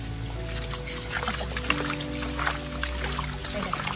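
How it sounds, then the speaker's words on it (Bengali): Water trickles and gurgles continuously from a small waterfall, spilling over rocks, with a low steady hum underneath. "ঝর্ণার জলের কুলকুল শব্দ হচ্ছে না?"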